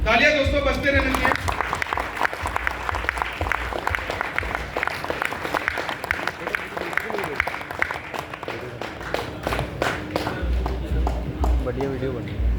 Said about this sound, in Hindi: तालियां दोस्तों बजते रहने चाहिए।